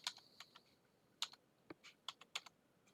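Keys clacking on a vintage Kaypro computer keyboard running CP/M software, with short irregular bursts of sharp clicks and brief pauses, close and fairly quiet, no talking.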